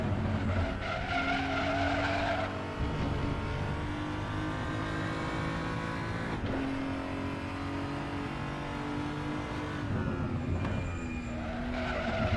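BMW 235i racing at Laguna Seca in Raceroom, tyres squealing and skidding over a loud, steady engine drone that persists throughout, with revs rising and falling.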